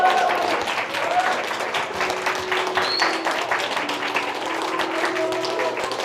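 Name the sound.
applause welcoming a new teacher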